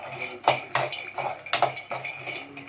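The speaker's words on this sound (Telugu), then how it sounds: "నిదానంగా స్లోగా వేగనివ్వండి. కలుపుతూ వేయిస్తూ ఉండండి." Almonds dry-roasting in a metal pan are stirred with a spoon, producing a series of sharp scraping clinks and rattles at an uneven rhythm, close and fairly loud.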